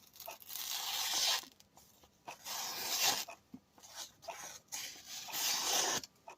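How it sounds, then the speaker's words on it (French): A Damascus steel knife blade slices small pieces of paper, giving repeated dry rasping, tearing strokes in bursts of roughly a second each with short gaps between, close and clear, with no speech. "Alors pour les amateurs de coupe de petits bouts de papier,"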